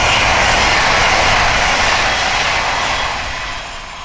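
A TransPennine Express Class 802 train, Liverpool Lime Street to Newcastle, races past at speed on the East Coast Main Line. It makes a loud, close rushing roar that swells and then fades slightly as it goes by, with no voices.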